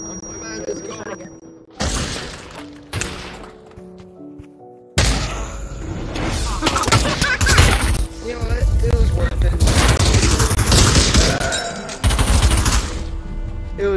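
Close, loud gunfire in the VR shooter Pavlov, a Trouble in Terrorist Town match: scattered single shots first, then sustained heavy bursts, with voices talking between and over the shooting.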